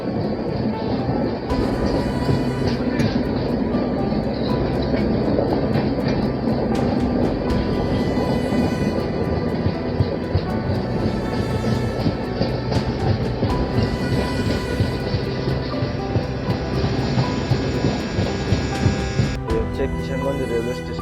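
The Garib Rath Express runs on the rails between Agartala and Kolkata, producing a loud, continuous rumble and rattle heard from inside the train, with faint voices in the background.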